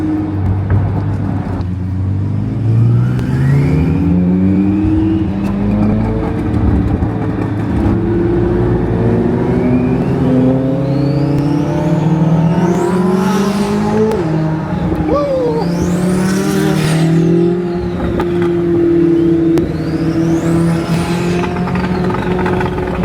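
A powerful twin-turbo supercar engine revs and accelerates hard, its pitch climbing and falling through gear changes, loud and close, with a faint voice underneath.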